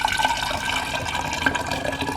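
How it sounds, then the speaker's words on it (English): Cooled homemade detox tea with lemon being poured from a measuring cup into a container, a steady close splashing, trickling stream of liquid lasting throughout. "I'm gonna pour it inside my measuring cup and pour it inside my container"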